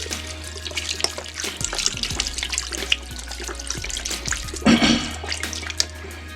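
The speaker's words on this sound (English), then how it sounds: "I'm going to put in a cup, maybe 2 cups of beef broth here." Beef broth, about two cups, poured into a pot for country-style rib tacos, a steady close liquid gurgle and splash that swells near the end, with no voices.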